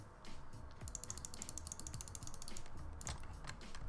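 Loud computer keyboard typing and mouse clicking during a Prison Architect play session, a steady dense patter of clacking keys running throughout under a noisy background.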